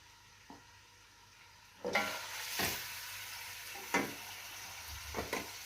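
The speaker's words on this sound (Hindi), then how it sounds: "प्याज और लहसुन के साथ ही मैंने गोश्त भी डाल दिया है ताकि इसे मैं फ्राई कर लूँ" Meat sizzles quietly in a pan with onion and garlic while a utensil stirs and scrapes it several times, with soft bursts of frying.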